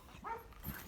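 At a farm, a dog gives two short, faint barks spaced apart, sounding somewhat distant.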